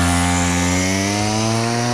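Small stunt mini bike engine held at high revs, a loud, continuous buzzing whine with steady harmonics, close and alone.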